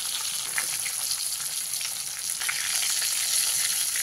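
Hilsa fish pieces fry in hot oil, a bright continuous hiss and crackle with small popping bursts, close and steady.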